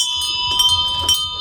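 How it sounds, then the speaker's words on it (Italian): A bell rung at a flash mob in Savona, ringing out loud and near in steady sustained peals with a bright metallic tone for a short stretch, no voices over it. "suoneremo questa campana perché le vittime, i bambini abusati, hanno bisogno di una loro voce."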